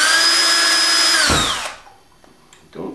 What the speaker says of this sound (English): I'll drill this hole while we're in a drilling mode